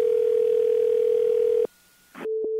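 A loud, steady telephone dial tone drones for more than a second after a hang-up, cuts off, then after a short pause and a click comes back as a fainter tone with a brief blip.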